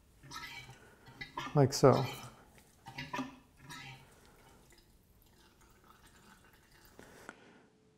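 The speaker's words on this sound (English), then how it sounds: "this is a good time to try to get more of the oil out by doing a little pumping action here" Oil being pumped out of a motorcycle fork tube during fork seal removal, giving a few brief wet, dripping and metallic sounds mixed with short speech, then quieter handling noises.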